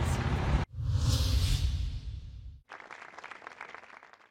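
Applause at a signing ceremony for cooperation agreements between Spain and Turkey, a brief burst of clapping that fades, followed by quieter room noise.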